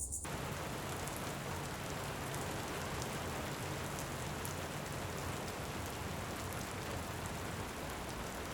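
Dense, even hiss of rain falling steadily, soft and unbroken, with no voices.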